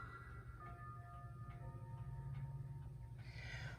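Several clocks chiming in a shop sound faintly in the background as a slow series of soft, ringing tones over steady low room noise, with no talk.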